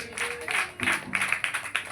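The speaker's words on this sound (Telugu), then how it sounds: "చప్పట్లు కొట్టి దేవుడికి స్తోత్రం చెప్పాలి." A church congregation claps hands in praise during worship, a few scattered, uneven bursts of clapping under a voice that keeps talking.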